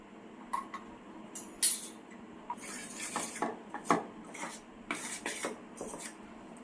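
Gram flour batter for bhajiya being mixed by hand in a bowl, with soft irregular scraping and clinking of utensil against the bowl in close, quiet bursts, no voices.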